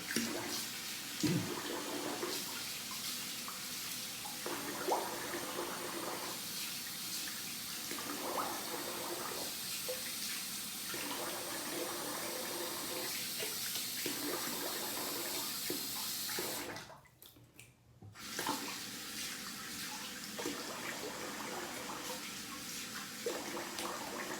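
Face rinsed under running tap water at a sink, a continuous splashing flow with rhythmic hand splashes that briefly cuts off near the end before resuming.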